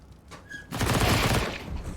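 Rapid MP9 submachine gun fire in a Counter-Strike match on the Overpass map: a loud, dense burst of overlapping shots that starts suddenly after a quiet moment and continues steadily to the end.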